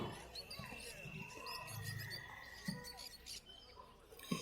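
Faint, busy chirping and twittering from a flock of lovebirds at a bird market fills the background, with occasional thumps and low murmurs mixed in.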